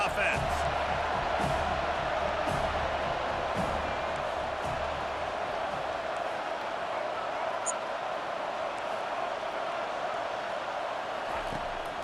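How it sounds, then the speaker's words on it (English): Stadium crowd roar from the College Football 25 video game during a fourth-down play, a steady, dense wash of noise that holds throughout with no clear breaks. "this crowd is making it miserable on this offense"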